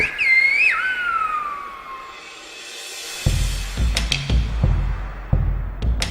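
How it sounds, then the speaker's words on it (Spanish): Silbo Gomero, the whistled language of La Gomera in the Canary Islands, rings out as a loud, piercing, melodic whistle with gliding pitch, then fades as other sharp sounds take over. "Una voz propia, alta y musical, el silbo."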